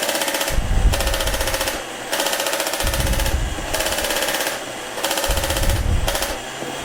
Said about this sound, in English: on the top of this joystick you have a red button that will activate your machine gun.